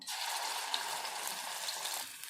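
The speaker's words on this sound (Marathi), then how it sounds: "इथे आपण आता छानपैकी तेल सुटेपर्यंत इथे मसाला तेलामध्ये भाजून घेणार आहोत" Ground masala frying in oil for a besan bhaji, a soft steady hiss and sizzle close by, faint and continuous with a few small pops before it eases off near the end.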